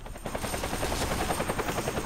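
Video game helicopter with rapid rhythmic rotor chop, loud and steady throughout, mixed with gunfire-like pulses during an RPG fight against the chopper.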